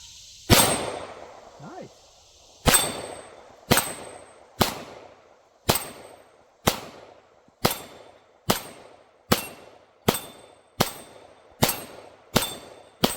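Shots ring off steel DIY dueling tree targets in a string of about a dozen sharp metallic clangs at roughly one-second intervals, each followed by a brief ringing decay, with a short spoken remark early on.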